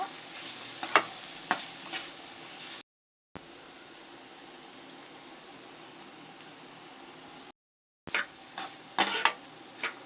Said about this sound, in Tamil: சேர்த்து கிளறி விட்டுக்கலாம்.